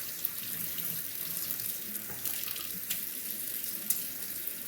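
Tap water runs over a Jnat natural sharpening stone, a steady hissing splash with a few faint clicks as the stone is rinsed, close by and without speech.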